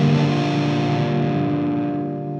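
One sustained electric guitar chord in an alternate tuning rings out with distorted, effect-thickened tone and slowly fades, heard alone.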